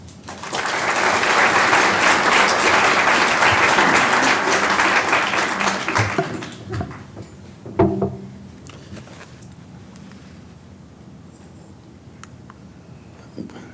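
An audience bursts into loud, sustained clapping to welcome a lecturer, swelling quickly and holding for several seconds before fading to a few stray claps and quiet room noise.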